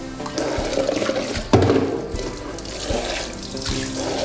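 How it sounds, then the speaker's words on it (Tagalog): Water splashes and runs steadily into a cooking pot holding fatty fish, with a sharp gush partway through, close and fairly loud with no talk. "lagyan lang natin tubig konti"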